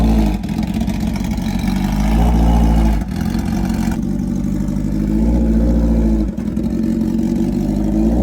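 A built Kawasaki ZX10R sport bike with a loud aftermarket exhaust revs hard and close, its engine roaring in repeated surges with brief dips between throttle blips and no talking.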